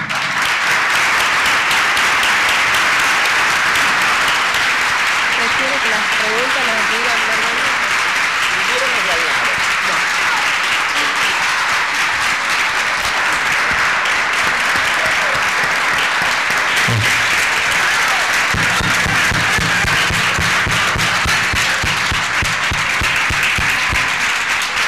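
Dense, sustained audience applause fills a lecture hall after a psychoanalysis conference talk, loud and continuous throughout with a few faint voices underneath.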